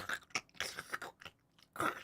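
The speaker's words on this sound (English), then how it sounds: "Let me chew some raw kale." Someone bites and chews raw kale up close, giving a series of irregular wet crunches and snaps with short pauses between bites.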